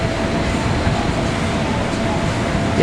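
Argo Cirebon passenger train at Jatinegara station on the double-double track works, a steady, loud rumble of rolling railcars with a continuous low roar and a faint high tone running through it.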